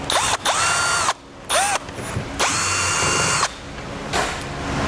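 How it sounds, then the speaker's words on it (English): Power drill backing out T30 Torx screws from a 2018 Jeep Cherokee tail light, several short whirring bursts with pauses between them, close and clear with no talking. "So we'll take out two T30 Torx bit screws."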